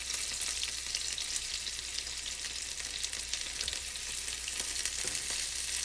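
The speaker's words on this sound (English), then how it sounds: "So these are definitely frying up real nice." Steady crackling sizzle of food frying in hot oil, soft and continuous with small pops throughout.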